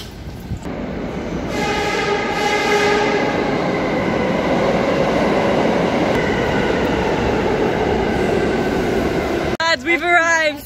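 Steady loud rumble of a moving train on the way to a station near Coney Island, New York, with a constant roar and a tonal whine throughout, ending in a brief squeal.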